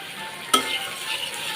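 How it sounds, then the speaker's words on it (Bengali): Onion with cumin powder, ginger paste and chili powder sautéing in hot oil in a pan for a thin tapse fish curry, a steady soft sizzle with a single sharp stirring knock partway through. "এখন একটু তেল দিয়ে কষিয়ে নিব"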